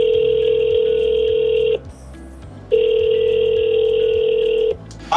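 A phone ringback tone heard over a speakerphone: two long steady tones separated by a pause, with a faint hum underneath.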